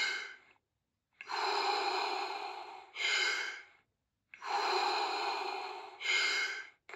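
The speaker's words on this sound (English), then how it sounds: "Nice, deep, circular breaths." Someone does Wim Hof method breathing close up, with deep circular breaths. Long rushing inhales alternate with shorter exhales in a steady rhythm, separated by brief silences.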